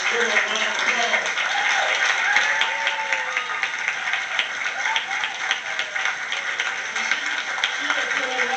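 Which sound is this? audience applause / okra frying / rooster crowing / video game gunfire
audience applause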